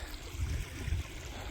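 Creek water flowing in the Alaska goldfields, a soft, steady low rushing and trickling that stays faint and close throughout with no voices over it.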